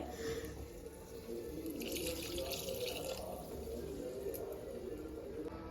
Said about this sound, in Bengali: দেখো আমি এবারে জল দিয়ে দেবো